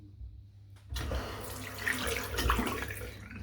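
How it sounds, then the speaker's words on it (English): After a quiet moment, a tap opens and water runs steadily into a sink to wet a hand after a close shave; a close, continuous splashing flow with small splatters and no speech. "I'm just going to wet my hand."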